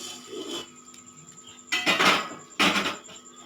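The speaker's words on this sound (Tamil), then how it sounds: "இது எல்லாத்தையும் நல்லா கலந்து விட்டுக்கலாங்க" Rice flour murukku dough being mixed with hot oil, heard as bursts of scraping and clattering from a spoon or hand working against a vessel, in two main stretches with short pauses, close and fairly loud, no talking.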